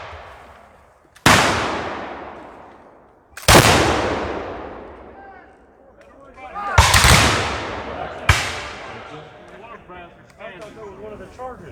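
Four loud, sharp reports from 18th century muskets fired in drill, each booming blast ringing out and decaying over a second or two, spaced irregularly, with faint voices between shots.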